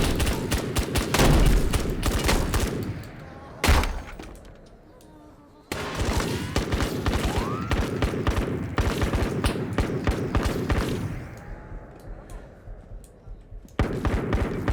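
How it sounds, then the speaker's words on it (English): Rapid bursts of gunfire in the video game Operator: Tier 1 at night, dense volleys that keep up across most of the stretch, with a short lull midway and another near the end, loud and close. "the guy shooting at me through the ground is a little ludicrous"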